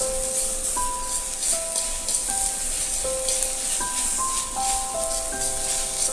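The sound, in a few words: drumstick leaves cooking in a pan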